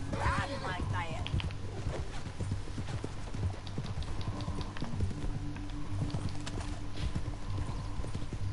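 Rhythmic clip-clop of horse hooves at a gallop in the video game Red Dead Redemption 2, with a horse whinnying near the start, under a steady game-like backdrop.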